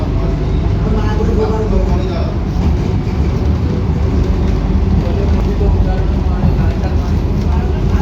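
Sealdah–Krishnanagar City AC local train running, a steady loud rumble of wheels and carriage that fills the whole stretch, with faint voices underneath.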